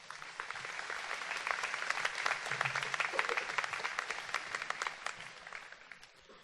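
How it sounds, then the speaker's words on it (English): A graduating class applauds at a university Class Day ceremony, a steady wash of many hands clapping at moderate distance, sustained for several seconds before tapering off. "Give yourselves a round of applause."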